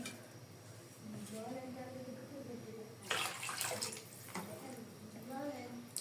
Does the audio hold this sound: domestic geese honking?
no